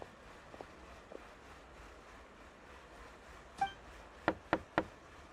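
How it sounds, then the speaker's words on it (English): Knocking on a door in the video game Genshin Impact, a quick series of three sharp knocks, fairly loud and close, preceded by a single thud over a quiet ambient background with no talking. "I'll go knock on the door."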